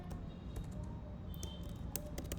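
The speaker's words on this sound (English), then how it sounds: "I'm typing simple class1.php." Soft, quick keystrokes on a computer keyboard while writing PHP code, scattered clicks over a low background hum, quiet and close.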